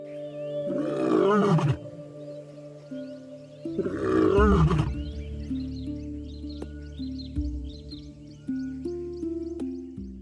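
Lion roaring in the wild in Africa, two long, loud, deep roars a few seconds apart, followed by quieter background with faint bird calls.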